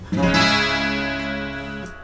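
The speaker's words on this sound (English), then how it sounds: "So if you're strumming a guitar without palm muting, it would sound like this." A single strummed guitar chord without palm muting rings out openly, its notes sustaining and slowly fading, with a faint new strum near the end.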